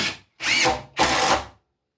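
Power drill driving a 2-inch screw into a piece of wood while building a shaving horse, two loud close bursts of whirring drive, each about half a second, separated by brief pauses.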